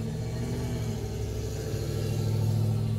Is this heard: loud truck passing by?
yes